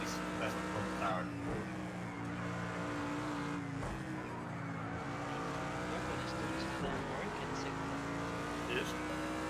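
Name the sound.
Mercedes AMG GT3 engine at Imola in video game Project Cars 2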